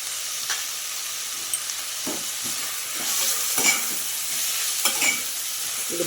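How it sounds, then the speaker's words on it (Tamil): Onions sautéing in a pan with crushed ginger, garlic and fennel, a continuous close sizzle broken by several scraping stirs of a spatula spaced across the clip. "இப்போது இதில் நம்ம இடித்து வச்சுருக்க இஞ்சி பூண்டு சோம்பு சேர்த்துக்கலாம்."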